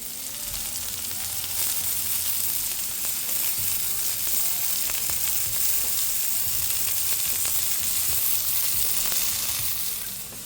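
Pork tenderloin searing in a hot pan gives a loud, close, continuous sizzle with crackling spatter and occasional low thumps of handling, steady throughout with no voices.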